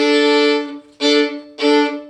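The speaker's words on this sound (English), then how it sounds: "hooked bowing, stopping your bow in between the 2 notes" Three sustained bowed string notes played with hooked bowing, each cut off by a short silence as the bow stops between them; clear, close and fairly loud.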